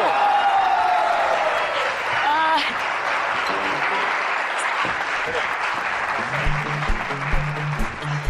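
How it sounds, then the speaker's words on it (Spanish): Studio audience on a Spanish-language talk show applauds the performers, a broad sustained patter of many hands mixed with a voice, musical tones and other studio sounds, ending with a brief exclamation. "El aplauso para ellos."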